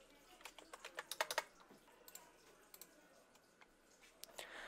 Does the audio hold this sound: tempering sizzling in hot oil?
no